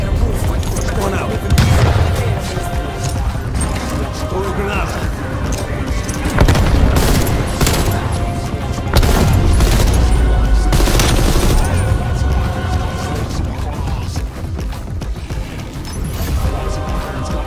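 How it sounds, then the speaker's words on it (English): Gunfire rattles in rapid bursts through a firefight in Call of Duty Black Ops Cold War, with a grenade blast and crashing impacts punching through. Loud and dense throughout, with voices shouting under the chaos. "Grenade!"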